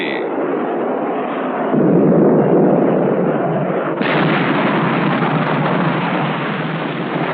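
A 1963 weapons-effects test: 2.75-inch rockets fired from an F-100D slam into a 105-millimeter howitzer target, producing a loud, dense roar of blasts that swells midway and then jumps into a harsher, brighter rumble that holds to the end.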